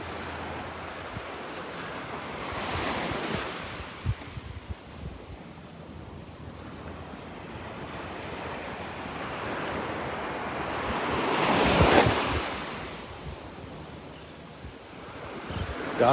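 Ocean surf rolls onto a beach in Naples, Florida, in steady broad washes, with louder breaking swells near the start and again toward the end, mixed with wind buffeting the microphone and no talking.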